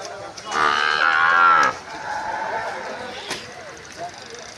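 A cow at the Edakkara cattle market in Kerala lets out one loud, drawn-out moo close by, followed by quieter market bustle.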